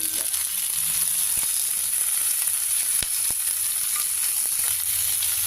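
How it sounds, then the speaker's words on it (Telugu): Steady sizzling of vegetables and green peas frying in a pan, a constant bright hiss with a few soft clicks of stirring, no voices. "మంచిగా వేయించేసుకోవాలి ఈ కూరలు"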